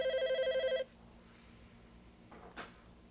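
Telephone ringing in a TV drama scene: one short trilling ring that stops abruptly, followed by quiet room tone and a faint knock or handling sound.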